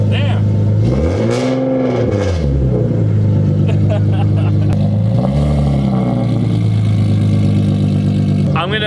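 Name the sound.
sports car exhaust revving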